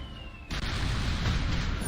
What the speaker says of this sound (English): Nana wants to make a huge explosion.